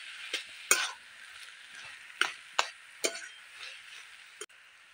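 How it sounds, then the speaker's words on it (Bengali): A spatula scrapes and clinks in a pan while a vegetable chop mixture with fried ground spices is stirred, a handful of sharp strokes over a faint sizzle, close up with no talking. "খুব ভালোভাবে আবারও মিশিয়ে নিলাম।"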